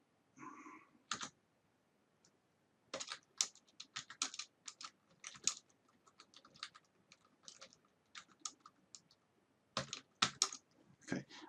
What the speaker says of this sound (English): You don't have to sit and watch me type.